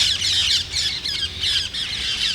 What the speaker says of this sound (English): There are a lot of birds around here.